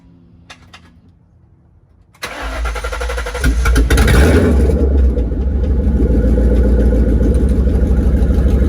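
A car with its exhaust mid pipe removed cranks and fires into a loud, deep rumble, then revs hard before settling into a heavy, raspy idle, close and alone.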